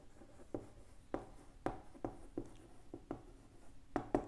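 Chalk or marker tapping and scratching on a board during an engineering lecture, a quiet, irregular run of short strokes and taps with no speech.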